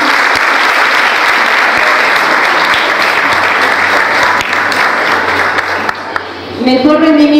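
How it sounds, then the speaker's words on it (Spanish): Sustained applause from a crowd at a school ceremony fills the room, steady and loud, then fades as a voice begins speaking at the end. "Renovamos el aplauso."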